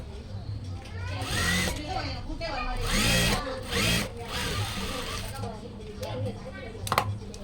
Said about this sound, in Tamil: இந்த மாதிரி அடிச்சுட்டு திருப்பி ரிட்டர்ன் ரிவர்ஸ் வரையில் டபுள் தையல் ஆகிடும்.